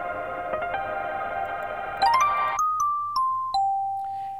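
A high, bright synth sample steps through a few sustained notes in a studio session, each drenched in heavy reverb with long ringing tails.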